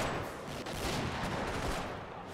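Dense, continuous rifle and machine-gun fire from a World War II battle in Company of Heroes, a steady crackling barrage of overlapping shots with no break and no voices over it.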